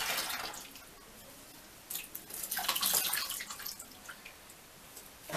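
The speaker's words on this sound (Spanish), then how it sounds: "Y abrimos la llave y empezamos a enjuagar." Running tap water rinsing a cosplay wig under a faucet, a hissing splashing stream that rises and falls in intensity with drips and surges, close and alone.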